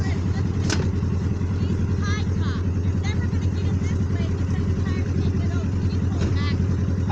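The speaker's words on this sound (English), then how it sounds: "Engine's running, baby." A truck engine idles steadily at close range while the vehicle sits high-centered with all four tires off the ground, a constant low rumble with voices talking over it.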